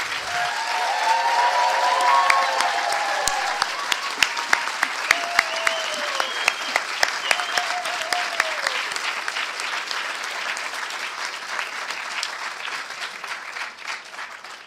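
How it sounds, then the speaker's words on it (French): An audience at a university graduation ceremony in Gatineau applauds new psychology doctoral graduates, a sustained crowd clapping that is loud at first, then thins into scattered distinct claps and fades toward the end, with faint voices underneath. "une bonne main d'applaudissements pour nos nouveaux doctorants en psychologie"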